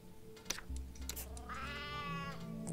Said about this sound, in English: What was that sound? Sounded like a goat. Yeah, oh, it's the cat.